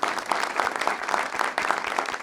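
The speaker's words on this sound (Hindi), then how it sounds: "बहुत तालियां इन बच्चों के लिए।" A studio audience claps for a group of children in brisk, steady applause that fills a couple of seconds, close and fairly loud with a few rhythmic pulses.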